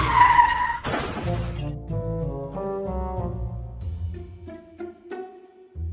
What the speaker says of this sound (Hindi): तभी शॉन बाइक चलाते हुए इनके घर पर आता है।